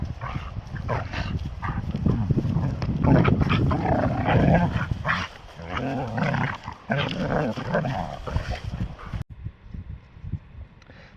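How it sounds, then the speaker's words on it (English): Dogs scuffle playfully on a coastal walk, trading close growls, snarls and yaps in rapid bursts with scuffling movement, ending abruptly before a quieter outdoor tail. "The dogs are having a little tussle."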